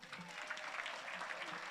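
Brief burst of audience applause at a conference opening ceremony, a steady wash of clapping from a crowd for an honoree.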